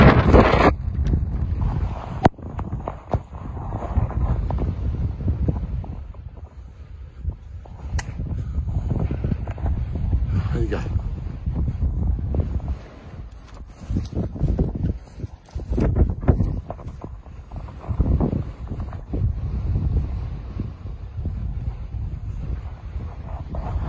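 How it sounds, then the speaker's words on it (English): Strong, gusting wind from Storm Bella buffets the microphone with a loud, low rumble that rises and falls throughout, with a few brief spoken words and rustling. "It's been raining and the wind is picking right up."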